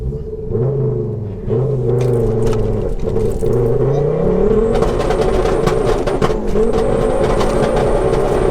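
A 530bhp big-turbo, four-wheel-drive-swapped Ford Focus ST launching on a wet road, its engine droning and rising in pitch through the gears, loud and close, with a brief dip as it shifts and a whine building later.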